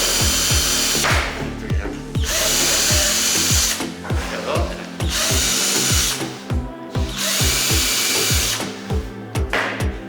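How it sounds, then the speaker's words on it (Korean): A power drill bores holes into a wooden cutout letter, its motor whirring loudly in three long bursts separated by brief pauses, close up with no talking. "글자에다가 드릴을 가지고 이렇게 구멍을 이렇게 합니다"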